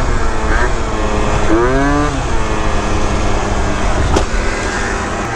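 A 70cc Yamaha Zuma scooter with a CVT setup idles loudly and steadily, then its throttle is blipped for a quick rising-and-falling rev before it settles back to a rough, continuous engine drone.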